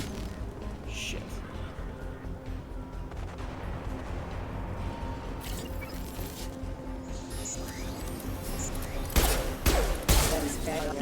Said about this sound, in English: You may have noticed my pistol shot did slightly more damage there.